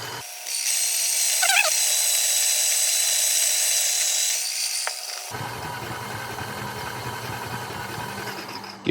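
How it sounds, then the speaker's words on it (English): A coffee grinder whirs steadily and loudly for about four seconds, then winds down into a lower, rougher mechanical rumble with clicking texture near the microphone. "I'm going to turn off the grinder"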